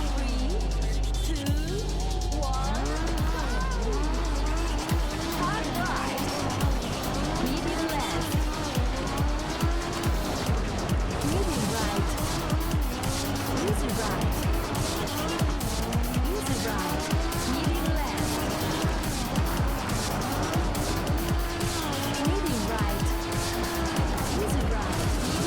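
Racing game engine roar and tire squeals from Super Woden: Rally Edge, a continuous loud, revving car engine with repeated skidding squeals across a point-to-point lap, with talk over it throughout.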